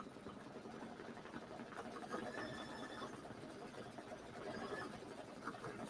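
A King Star embroidery machine stitches a wall hanging with a steady, fast mechanical chatter that runs throughout at an even level, with no talk.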